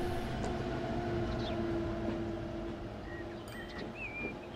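A train rolls steadily through the Transport Fever 2 game world, a continuous rumbling run of rail noise with a sustained hum and faint high squeals, moderately loud and alone.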